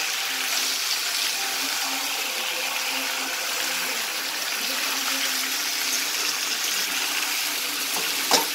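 Chicken frying in a pan, a steady loud hiss of sizzling oil that holds evenly from start to finish, close by, with a brief knock near the end.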